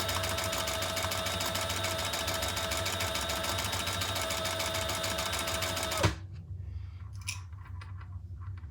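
A sewing machine stitching a Magnolia Rae Traveler Pouch, fast rhythmic close-up needle clatter running steadily for about six seconds, then stopping abruptly, followed by quiet handling sounds.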